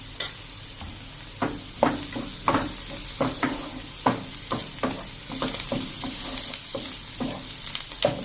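Turmeric and red chili fry in hot oil in a pan, a steady close sizzle broken by repeated scraping stirs of a spoon at an irregular rhythm.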